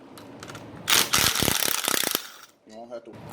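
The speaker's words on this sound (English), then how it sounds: "you want to break your brake line loose on the back here." A ratchet wrench loosens the rear brake line fitting, stated as 12, on a Honda Fourtrax ATV during a front disc brake conversion. A close, rapid burst of ratchet clicks lasts about a second, followed by a brief voice.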